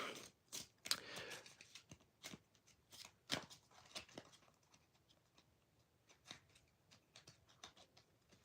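Tarot cards riffle and slap together in a series of quick, close shuffles, bursts of crisp rustling separated by short pauses.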